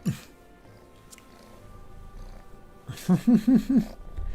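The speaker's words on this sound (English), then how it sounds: "I hear the purr" Callie, a pet cat, purrs in a soft, low rumble that swells into a short run of louder pulsing bursts near the end, heard close up over faint background hum.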